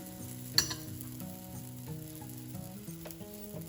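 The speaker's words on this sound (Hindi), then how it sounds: "अब इसको मैं गरम तवे पे डाल रही हूँ।" Food sizzles quietly on a hot tava, with one sharp clink near the start and a low continuous fry underneath.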